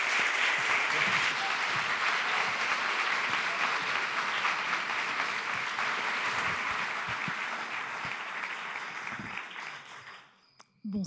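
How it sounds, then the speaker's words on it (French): Sustained, loud applause from a theatre audience welcoming a storyteller to the stage at an evening storytelling event, dense steady clapping for about ten seconds before fading out. "je vous demanderai de l'applaudir très fort"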